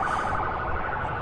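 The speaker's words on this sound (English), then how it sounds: "You hear the siren?" A siren at Louisville International Airport used to scare birds away wails steadily and loudly for the whole moment, with no talk over it.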